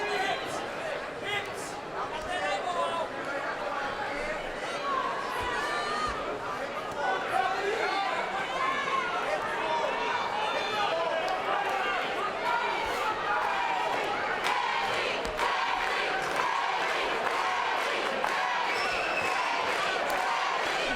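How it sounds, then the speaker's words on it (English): Crowd at a CES 29 women's MMA bout urging on hometown favorite Kaline Medeiros, with sustained murmuring, scattered shouts and thuds, under a commentator talking throughout. "Crowd trying to urge on Kaline Medeiros, the hometown favorite."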